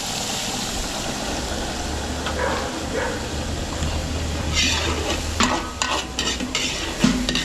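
Cooking oil sizzles and spits steadily as food is stirred in a pan, likely ginger, garlic and onion for a Filipino catering dish. The scraping and frying continue close and loud throughout, with a few sharper clatters near the end.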